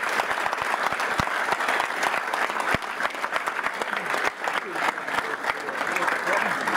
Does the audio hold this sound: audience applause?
yes